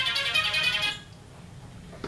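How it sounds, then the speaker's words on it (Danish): A mobile phone ringtone rings loudly for about a second with a bright, repeating electronic melody, then cuts off, leaving quiet room tone in a meeting or discussion setting. "Skal vi starte med at slukke mobiltelefonen? Jeg troede, jeg havde sat den på tavs tidligere."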